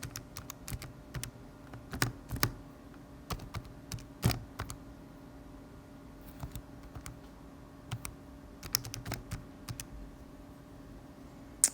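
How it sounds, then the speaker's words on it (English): Calculator keys pressed one after another in irregular bursts of crisp, close plastic clicks and taps, with short pauses between, alone in a quiet room. "when I type that into my calculator"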